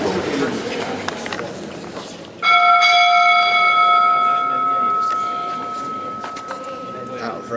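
A bell at Ely Cathedral strikes once with a bright, ringing tone that lingers and slowly fades, over background crowd noise and movement.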